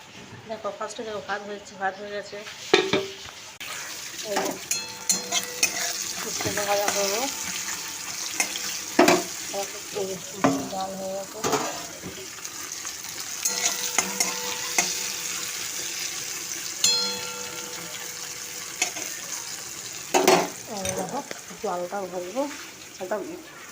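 Bitter gourd and potatoes fry in a home kitchen pan with a steady sizzle, with stirring clatters and scrapes breaking through at intervals and a running tap heard briefly; someone talks over much of it.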